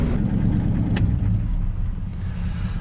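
A 1955 Ford car rolls into a hotel lot in Limon, Colorado, its engine a steady, close rumble heard from inside, with no talking.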